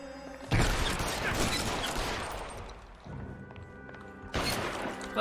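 Enemies fire on the player in L.A. Noire, a loud burst of rapid gunshots with crashing impacts that fades over about two seconds, then quieter background before another sharp volley hits near the end.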